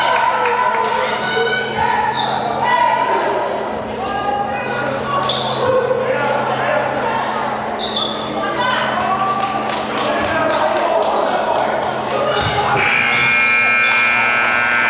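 The end-of-game buzzer sounds at a high school basketball game between Columbia and Newark Central in Maplewood, a sustained electronic tone near the end cutting through loud crowd noise, bouncing balls and sneaker thumps in the gym.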